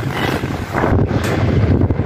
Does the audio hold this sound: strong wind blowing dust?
yes